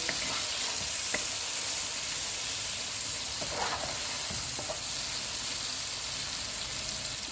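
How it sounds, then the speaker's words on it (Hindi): Coriander powder, crushed black pepper, crushed red chili and tamarind fry in hot oil, giving a steady, dense sizzle with occasional stirring scrapes throughout, with no talking. "धनिया पाउडर, कुटी हुई काली मिर्च और कुटी हुई लाल मिर्च, इमली डालेंगे। इनको 1 मिनट तक भूनेंगे।"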